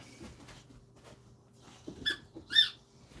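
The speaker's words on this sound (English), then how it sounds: "He's found his squeaky toy." A dog works a squeaky toy indoors, with soft shuffling and two sharp, close squeaks near the end over a quiet low hum.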